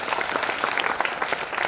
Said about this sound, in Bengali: স্যারের জন্য জোরদার করতালি।